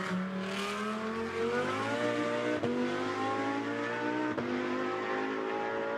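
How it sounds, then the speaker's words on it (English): A GT2 race car at Spa accelerates hard out of La Source onto another lap, its engine note climbing loud and close through the gears with a brief shift break midway. "Turns his way down through La Source, and blasts onto another lap as Stefan Ratel gets ready to go in the car"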